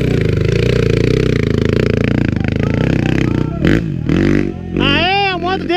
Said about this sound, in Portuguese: a moto dele tá em marcha